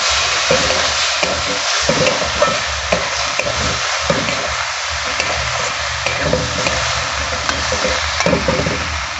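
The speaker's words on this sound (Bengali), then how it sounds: "মশলাটা ভালো করে কষিয়ে নিয়ে তারপর আমি মসুরির ডালটা দেব" Spices and red lentils being stir-fried in a pan for a spicy egg and cabbage curry, giving a steady broadband sizzle with repeated scraping stir strokes throughout, close and fairly loud, no talking.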